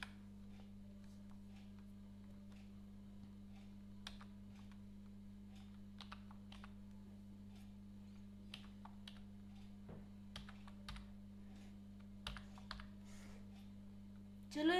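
Typing on a computer keyboard while coding in Python: scattered, irregular key clicks, quiet and close, spread over a steady electrical hum with long gaps between bursts.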